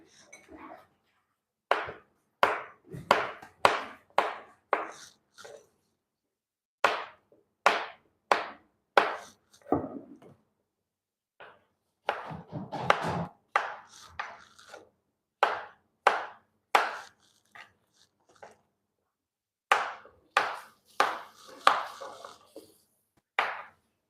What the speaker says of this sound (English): So my pumpkin is ready. I'm going to cut it into chunks.